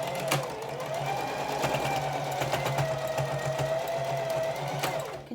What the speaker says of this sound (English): So now I'm gonna do the second round of top stitching.